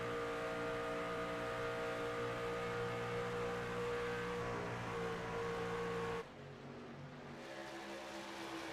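Race trucks in a NORA Truck Series event at Kansas, a simulated racing game, drone steadily with layered engine tones as a six-truck lead pack battles closely, the engine roar dipping slightly near the end.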